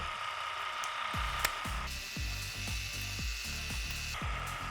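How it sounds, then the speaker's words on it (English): A Shark Glow Pro facial device running on its strongest suction level, its motor humming steadily while a series of soft, rhythmic pops mark the suction releasing from skin, close and fairly quiet. "you can hear the suction on the skin as it pops off"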